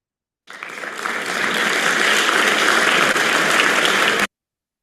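Steady, dense applause from an audience during a research methodology course session, starting abruptly and holding at an even level for nearly four seconds before cutting off.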